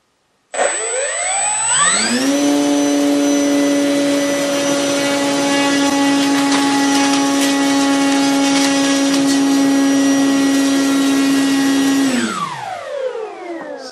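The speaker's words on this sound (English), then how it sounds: "So I've just done it with a 4-bladed prop, so now we're doing it with a 2-bladed prop." An eFlite P-51 RC model with a 2-bladed propeller spins up from silence into a loud, steady high-pitched whine and buzz, holds at full speed, then winds down at the end.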